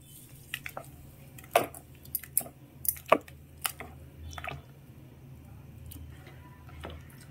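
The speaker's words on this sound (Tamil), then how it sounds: "உப்பு போட்டு இந்த மாவை கரைக்க போகிறேன்" Wet squelching and sloshing from hands mixing salt into thick batter, with irregular squishy bursts that fade into a quieter churning.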